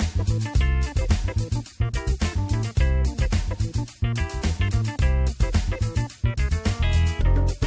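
A funky blues piano line with rootless voicing chords walking up from the fifth, played in a rhythmic, punchy pattern of repeated chord stabs over a bass line, moderately loud and alone.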